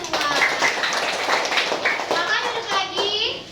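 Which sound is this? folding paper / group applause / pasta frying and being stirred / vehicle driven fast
group applause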